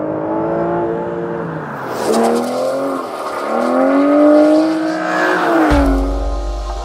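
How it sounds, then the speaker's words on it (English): A powerful V12 car engine revs hard, its pitch climbing and falling through several sweeping surges, loud and close, with no talking. "Certainly sounds every bit as good as the other two cars here though. That V12 is absolutely epic."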